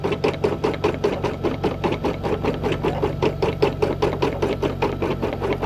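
A Brother SE1900 embroidery machine stitches out a design close by, with a fast, even rhythmic thumping of the needle mechanism over a steady motor hum, running alone throughout.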